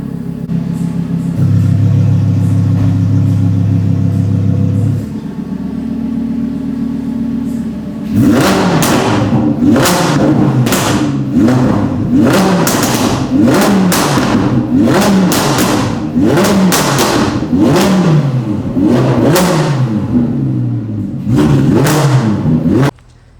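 An Audi R8 fitted with a Quicksilver exhaust idles loudly, then is revved repeatedly in sharp, aggressive bursts close up, each blip rising and falling with a deep, raspy roar.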